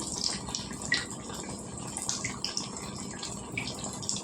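Battered raw banana bajji pieces, dropped four at a time into hot oil, fry with a soft, steady sizzle and scattered crackling pops at moderate-to-low volume.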